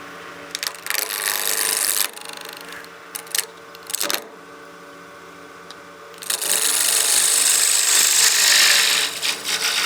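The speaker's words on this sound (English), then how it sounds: "Turn our lathe back on" A wood lathe turns a pen blank while a tool scrapes and cuts it in rough, hissing bursts, pausing briefly mid-clip before a sustained cutting stretch, close and fairly loud with no talk.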